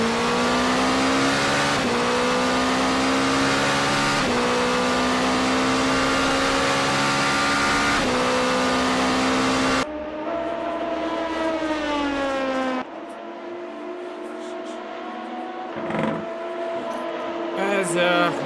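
Race car engines scream in a racing video game at Mandalika, loud sustained high-revving tones with gear-shift pitch sweeps, one car then a thinner, more distant engine note, and no voices over it.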